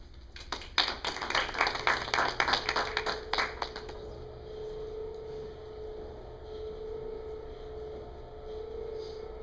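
An audience claps for Dr. David Powers as he is introduced: a burst of applause lasting about three seconds that stops abruptly, leaving a quiet room with a faint steady hum.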